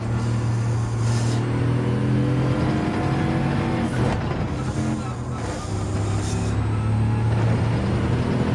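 A Bugatti Veyron in Gran Turismo 7 at the Red Bull Ring holds a loud steady engine drone, then the tone sweeps as it brakes and shifts, rising again as the car pulls away.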